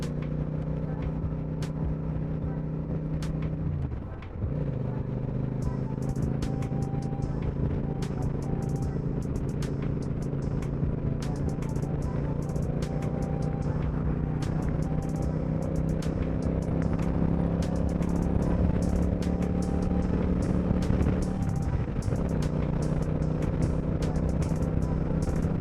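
A motorcycle cruising on a busy highway in the early morning, its engine drone steady and close with wind noise, dipping briefly twice as if easing off before resuming a smooth, responsive pull.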